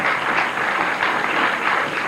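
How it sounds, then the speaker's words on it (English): Steady, dense applause from a crowd at a candlepin bowling match, a continuous clapping wash lasting about two seconds with no break. "Good round of applause for Gail Sweeney"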